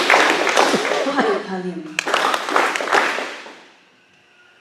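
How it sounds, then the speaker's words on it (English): An audience clapping in unison at a talk, sharp claps cutting through a speaker's voice that continues before and after, followed by a fading tail of room reverberation. "Please clap 3 times."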